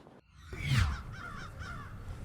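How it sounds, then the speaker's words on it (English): A crow flies over a lake during a bass fishing tournament, giving a few loud hoarse caws in quick succession over faint outdoor background noise. "Did you hear that crow laughing at me when he went over?"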